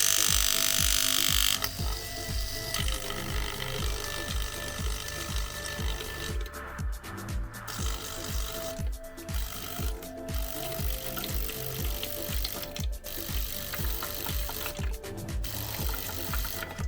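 A 2009 Ulka vibration pump in an espresso machine runs steadily after repair, giving a close, loud, rapid mechanical buzz and rattle with a few brief dips throughout.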